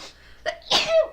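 A single sharp sneeze, close and clear, preceded by a short sharp intake of breath.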